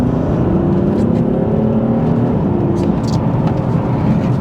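A BMW M car in Sport Plus mode pulls hard in third gear, a loud, steady, rising engine drone heard from inside the cabin with no pauses.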